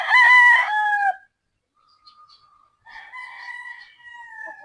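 A white claret gamecock rooster over three years old lets out one loud, close crow. Softer, broken crowing follows a short pause.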